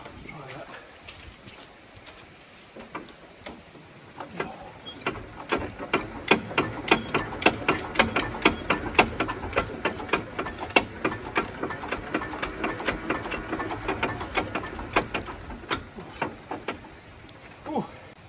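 Thwaites 2-ton dumper diesel engine cranking and catching, a steady rapid knocking beat that builds after a few seconds and runs on, close and fairly loud, with some talk early on.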